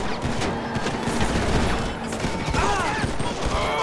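Dense video-game gunfire in GTA 5 as cars are shot at, rapid repeated bursts with mechanical clatter, steady and fairly loud throughout.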